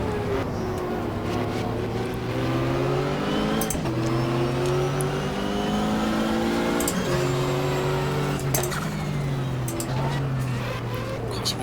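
Porsche race cars at Daytona in the GTR2 racing game drone at sustained high revs, pitch rising through each gear and dropping at the shifts, with a commentator talking over the engines.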